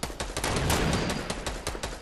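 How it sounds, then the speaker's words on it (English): Rapid bursts of video game gunfire crackle in quick succession, loud and dense throughout with a steady rattling rhythm. "Oh, somebody's shooting at us."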